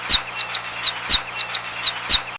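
Animated birds returning to their nests in the evening, with loud, close, repeated bright chirps in quick rhythmic bursts over a faint low hum, ending abruptly.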